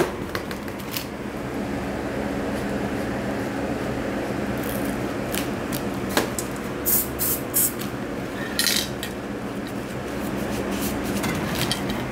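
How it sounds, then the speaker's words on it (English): An aerosol spray paint can hisses steadily at close range as paint is sprayed onto fingers, a continuous loud spray with a few short bursts and clicks near the end and no talk. "you're just going to go ahead and spray it on your fingers and then go ahead and swipe it in."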